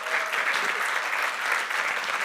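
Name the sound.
congregation applauding to encourage Marc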